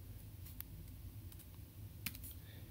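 Computer keys clack quietly on a keyboard while a spreadsheet formula is entered, giving a few scattered taps over a steady background hum.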